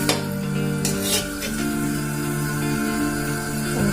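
Sooji lalmohan laddus frying slowly in oil over a low flame, a steady soft sizzle running throughout with a few faint clinks of utensils against the pan.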